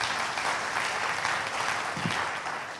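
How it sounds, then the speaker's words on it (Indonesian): A church congregation claps together during a sermon, steady dense applause filling the whole moment at an even level without letup. "Tepuk tangan dong buat Yesus."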